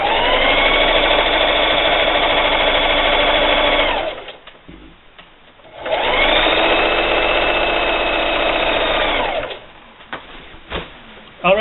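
A sewing machine stitches a seam through a heavy layered quilt, running loud and steady for about four seconds, pausing, then running again for several seconds before stopping with a few faint handling noises.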